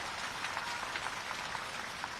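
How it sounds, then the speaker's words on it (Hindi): An audience at a political rally applauds, a steady wash of many hands clapping heard faintly and at a distance, with no voice over it. "तालियों की गड़गड़ाहट से धन्यवाद अर्पित किया जाए।"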